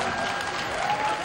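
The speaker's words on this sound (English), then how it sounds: "Clapping करो अपने लिए।" A studio audience at a Hindi quiz-and-music show breaks into brief, dense clapping, a steady broadband patter filling the whole short moment.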